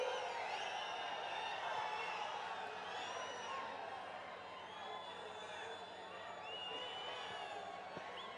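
Crowd noise from a chief minister's political rally in Holenarasipura: a continuous roar of voices and scattered whoops, fairly loud and steady, with talk mixed in.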